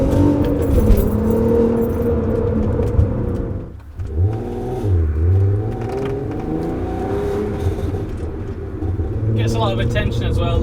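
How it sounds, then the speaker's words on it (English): A VW Golf MK4 R32 hatchback, three-door, with its engine revving up and dropping back and exhaust crackles as the throttle lifts, heard from close by under someone talking, with a brief keyless jangle near the end. "You get that little crackle as well just as you let off the accelerator."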